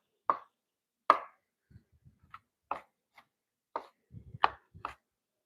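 A knife dices vegetable tops on a cutting board, giving sharp, irregularly spaced close chops with soft scraping and board knocks between them, no talk.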